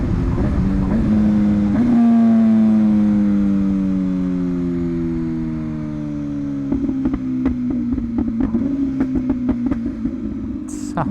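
An MV Agusta Brutale motorcycle fitted with a titanium exhaust revs and decelerates, the engine note sliding down steadily before a run of sharp, crackling pops and bangs on the overrun, loud and close.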